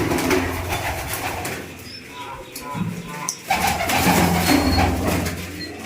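Pigeons coo repeatedly in low, throaty rolls, close by in concrete-roofed nesting boxes, with a busy background of rustling and faint voices.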